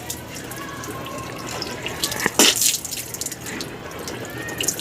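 Water runs from a tap during wudu ablution, a steady close stream with a sharper splash midway as water is taken in the hand for rinsing the mouth.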